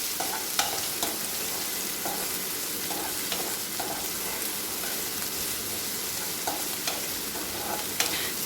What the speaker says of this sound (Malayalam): നമുക്കിനി ഒന്ന് ഇളക്കി കൊടുക്കാം. ഈ സവോള നന്നായിട്ടൊന്ന് വഴന്ന് വരണം.